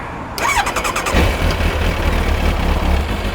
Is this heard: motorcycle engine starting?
yes